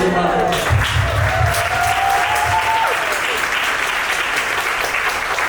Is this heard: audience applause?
yes